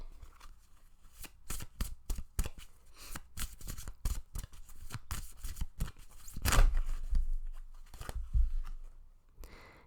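Oracle cards being shuffled and drawn from a Metatron deck, a run of crisp, close riffling snaps and card slides in an irregular rhythm, with no talking.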